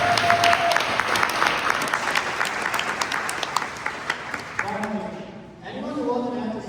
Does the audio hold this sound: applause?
yes